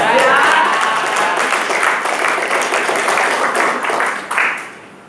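An audience at a business seminar claps loudly in a dense, sustained burst of applause that swells briefly near the end before tapering off, with crowd voices mixed into the noise.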